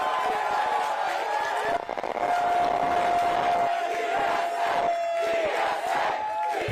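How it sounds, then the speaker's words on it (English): Crowd of New York City DSA supporters at a mayoral election night event roars with cheers, whoops and shouts, dense and loud throughout, with a sustained tonal horn-like whistle running through the middle. "let's hear a round of applause for New York City DSA!"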